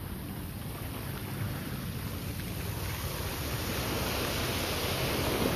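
Ocean waves roll in the dark, heard as a broad, steady wash of surf noise that swells slightly louder toward the end, with no voices.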